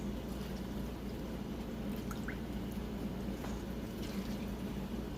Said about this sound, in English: gonna pour that broth in now